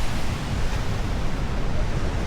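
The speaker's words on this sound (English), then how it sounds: "the waves are cool" Ocean waves break and wash up on the beach at Huanchaco, Peru, a continuous rumbling surge with buffeting wind noise and no talking.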